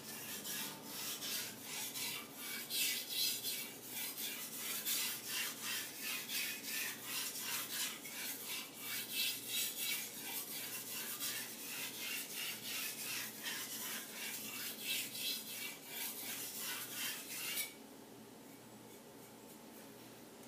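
Takeda gyuto knife sharpened on a Blue Aoto 2K whetstone, close rhythmic scraping strokes repeating quickly back and forth for about seventeen seconds before stopping, leaving quiet room tone.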